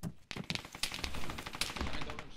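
Rapid gunfire in a capture-the-flag video game match, a dense run of sharp repeated shots and bursts at close range, heard alone without voices.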